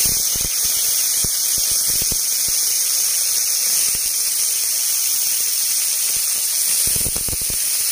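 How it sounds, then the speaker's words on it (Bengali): Sliced potatoes sizzle in hot mustard oil in a pan, a loud, steady, continuous hiss with occasional sharp crackles and pops. "এবার আলুটা ভেজে নেব।"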